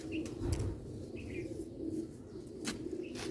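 Slate-grey pigeons coo softly nearby in low, throaty, repeated murmurs, with faint chirps and a few brief rustles over a quiet background.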